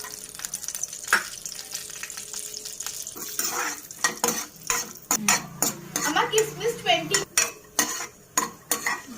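Cashews frying in hot ghee for boondi laddu, a soft sizzle under repeated metal spoon scrapes and clinks against the pan, growing busier and rhythmic toward the end.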